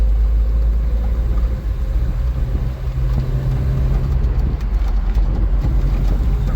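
A car engine pulls under hard throttle, a steady low rumble with a rising drone partway through, heard from inside the car with road noise around it.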